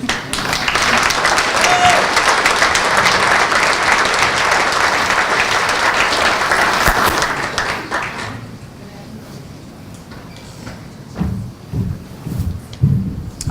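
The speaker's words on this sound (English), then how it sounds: "we owe her a huge round of applause for the work she does" Loud, dense audience applause fills an awards ceremony hall, steady for about eight seconds before fading into scattered claps and faint room noise.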